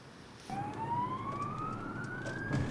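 An emergency vehicle siren rises in a long sweeping wail on New Year's Eve, starting suddenly and holding at moderate volume over the background noise of the night.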